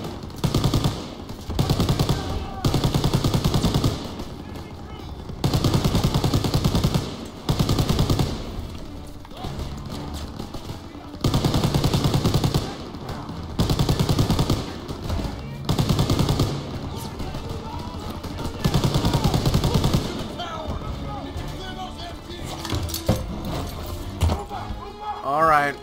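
Mounted turret machine gun in Call of Duty: World War II hammers out long, loud automatic bursts separated by short pauses, with battle noise and a voice talking between volleys.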